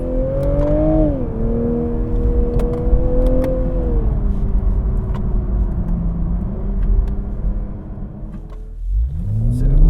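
A 2020 Toyota A90 Supra drives on open road in traction mode, its engine rising and shifting through gears with a steady harmonic drone, close and loud, ending with a fresh surge of acceleration.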